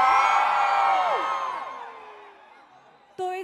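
A live crowd at a dance show whoops and cheers loudly, the roar fading over a few seconds before a short burst of a single voice returns at the end.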